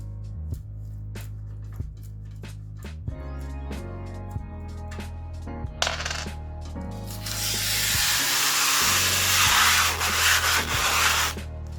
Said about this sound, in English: Like taking this plastic cover off.